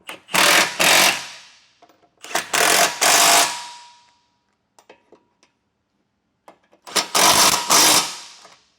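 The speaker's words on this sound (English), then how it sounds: "Now we'll take our 15mm socket and tighten those down." Trailer hitch bolts on a 2023 Buick Encore are tightened with a 15mm socket ratchet, three loud, close bursts of rapid rattling clicks separated by pauses with faint small taps and knocks.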